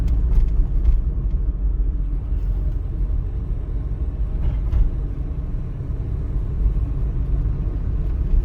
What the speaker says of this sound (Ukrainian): я перейшов на третю передачу, у мене механічна коробка передач і швидкість 35 км на годину.